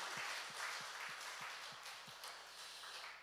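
A church congregation applauds during a founding Sunday worship service, a steady, distant wash of many hands clapping together, quiet and sustained.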